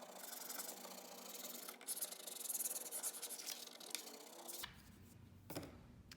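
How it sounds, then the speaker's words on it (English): Scraper rubbing a vinyl decal down onto a wooden board gives quiet, close scratchy strokes in uneven bursts, ending in a few softer rubs. "with your scraper, you're going to do the same thing as before and make sure that that vinyl is going to stick to the board"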